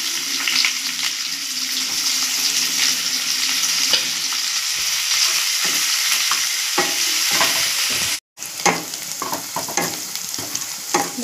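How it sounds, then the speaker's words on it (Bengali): Chopped onion frying with black cumin (kalo jeere) in hot oil for a parshe fish curry, a steady close sizzle with stirring scrapes throughout and a brief gap near the end. "ফোড়নে দিয়ে দিচ্ছি কালো জিরে, পার্শে মাছের কালো জিরে দিলে ভালো লাগে। তারপর দিয়ে দিচ্ছি পেঁয়াজ কুচি"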